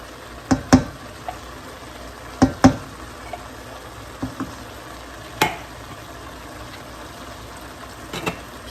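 Enchilada sauce from a can goes into a hot pan and is stirred, with a few sharp metallic knocks and scrapes of the spoon against the pan over a soft low sizzle, separated by quiet gaps.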